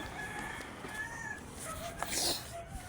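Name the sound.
chicken clucking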